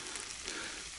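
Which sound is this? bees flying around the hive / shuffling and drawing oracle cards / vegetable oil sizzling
vegetable oil sizzling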